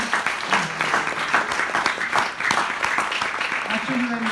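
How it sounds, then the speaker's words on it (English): An audience at an ISKCON gathering in Nairobi gives a round of applause to a speaker. The clapping is dense and steady throughout, and some voices can be heard underneath it. "let us give one round of applause to His Grace Madana-gopāla"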